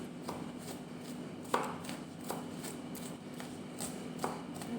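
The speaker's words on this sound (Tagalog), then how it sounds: "Mag-iwa po ako ng bawang at saka sibuyas para po dyan sa makaronya na ilalagay ko po." Knife slicing garlic and onions on a board, with a few soft, irregular cutting taps, quiet and close, and no talk.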